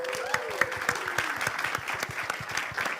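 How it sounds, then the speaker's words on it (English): Audience applause for a panelist at an NFT festival panel, steady crowd clapping with distinct individual hand claps in a quick irregular rhythm, moderately loud, over a faint voice at the start. "I'd love everyone to give her a round of applause"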